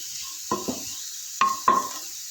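Four short scraping strokes of a spoon in a pan while sautéing a ground paste for banana flower cutlets, with a faint sizzle underneath, close and quiet, with no voices.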